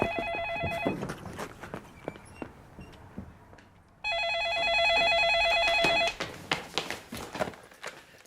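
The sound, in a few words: telephone ringing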